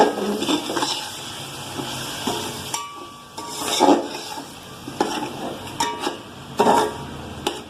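A spoon stirs red chili, coriander powder, turmeric and salt into a sizzling macaroni sauce in a pot, with repeated scraping strokes and occasional clinks of metal against the pan over a steady frying hiss.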